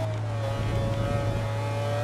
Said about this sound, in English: It's a 200 mile per hour supercar.